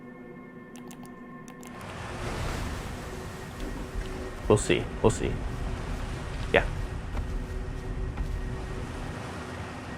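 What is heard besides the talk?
geyser erupting water noise in the video game Outer Wilds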